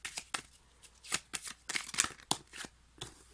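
Tarot cards being shuffled by hand, a quick series of crisp riffling and slapping bursts in an uneven rhythm, close and clear with no talking.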